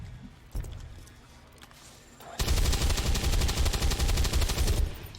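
A single sharp shot lands early, then after a quiet stretch a long, loud burst of rapid automatic gunfire rattles on for over two seconds in an XCOM 2: War of the Chosen battle.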